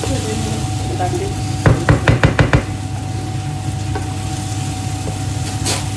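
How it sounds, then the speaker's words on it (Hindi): Rice fries in a pan with a steady sizzle, and a quick series of scraping knocks from stirring is heard near the middle. "हमारा राइस भी फ्राई हो चुका है।"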